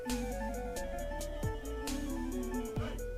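Opening of a video game battle theme, clipped from its start: dense layered synth chords with sliding pitch drops and a steady low bass, loud and continuous with no voices.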